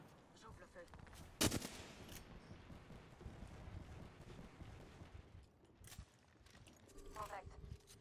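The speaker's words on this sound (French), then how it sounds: "J'ouvre le feu." Gunfire in the battle royale game Apex Legends: one sharp, loud burst of shots cuts through a busy bed of game sounds and distant firing, with a few fainter bursts later on.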